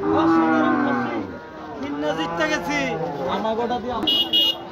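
A cow at a busy cattle market before Qurbani moos loudly in a long low call near the start, with crowd chatter and voices continuing around it.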